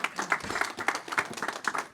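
Applause for a conference speaker named Scott at the close of an NDSS 2026 MADWeb workshop session: a steady wash of many hands clapping, moderately loud, with no voices on top.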